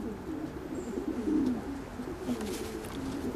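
Breeding pigeons coo in soft, rolling low phrases nearby, a faint continuous murmur with no talk over it.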